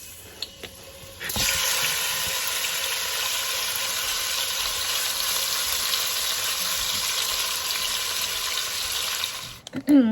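A chuck roast drops into hot bacon fat in a pan and a loud, steady sizzle fills the air, holding evenly before cutting off with a clatter.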